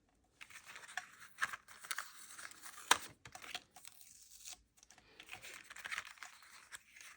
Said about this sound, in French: Donc je vais les fixer avec du scotch